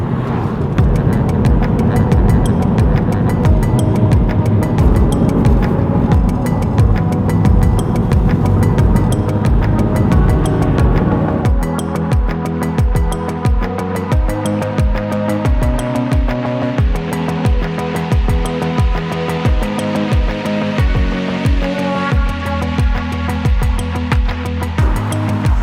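A BRP Can-Am Outlander 800 Max XT quad bike drives steadily with a loud, continuous engine drone and rhythmic pulsing, heard close and alone throughout.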